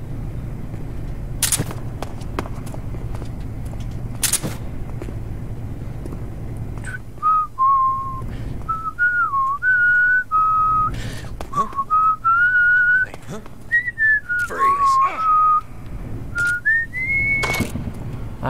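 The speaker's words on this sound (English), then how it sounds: "I'm just whistling." A person whistles a wandering, melodic tune up close in clear sustained notes, mixed with sharp bursts of gunfire from a Metal Gear Solid 3 game.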